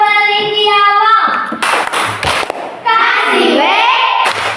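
A group does a rhythmic chant-and-clap routine at an academic coaching session, with short bursts of claps and thuds between loud sung or chanted voices.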